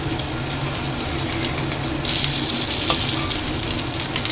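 Hamburger patties fry in a pan for breakfast, giving a steady, even sizzle throughout with a small metallic clink partway, close and moderately loud with no talk.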